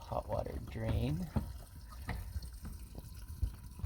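Water trickles and drips from the hot water drain of a micro hydro system, a faint, close splashing that sits under a person talking nearby with a few sharp knocks.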